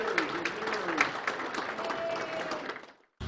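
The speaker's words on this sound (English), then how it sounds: "How about another round of applause for Leona?" A studio audience at a local news broadcast claps steadily for a performer, a dense, even patter of many hands at moderate distance that tapers off and stops abruptly at the end.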